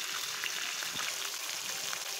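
Pieces of rohu fish fry in hot oil with a steady, dense sizzle that crackles continuously for a couple of seconds, close and fairly loud, with no voices.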